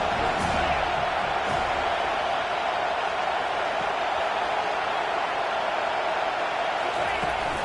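Constant stadium crowd roar in College Football 25 during the Florida at Florida State matchup, a steady, loud wash of noise with faint whoops, continuous across the whole stretch.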